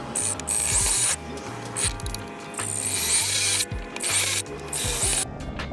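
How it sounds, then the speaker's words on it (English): A power drill whirs in repeated bursts, stopping and starting as it bores holes through a wooden kayak crate lid, close and loud. "We're going to go ahead and drill some holes here on our lid"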